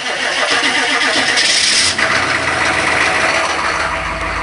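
A diesel pickup truck with a turbo cranks over after its glow plugs have heated, then catches and settles into a loud, rough idle close to the microphone.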